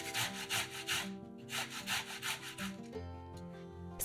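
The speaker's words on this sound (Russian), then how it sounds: "2 средних картофелины трем на мелкой терке" Boiled carrots are rubbed over a fine kitchen grater in steady, rhythmic rasping strokes, close and fairly quiet, with background music underneath.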